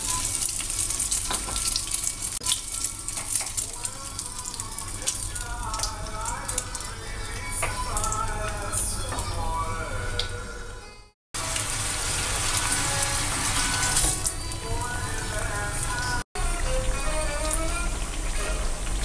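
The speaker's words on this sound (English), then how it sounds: "put it in flour, and then we dip it into the egg, and then we deep fry it." Floured, egg-dipped eggplant slices deep frying in hot oil give a steady, dense sizzle with crackling bubbles, running close and continuous apart from two sudden brief dropouts, with faint kitchen clatter mixed in.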